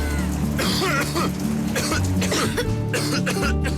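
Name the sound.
coughing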